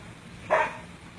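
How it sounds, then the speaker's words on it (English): A single short bark from a dog during an emergency call outdoors in extreme heat, heard once at moderate distance over low background noise. "Barking is good, yes."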